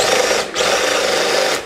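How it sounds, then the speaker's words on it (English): A DeWalt power drill runs in two bursts, a loud steady motor whine that briefly cuts out and spins back up, then begins to wind down at the end, close to the microphone. "nice to have a drill that works right."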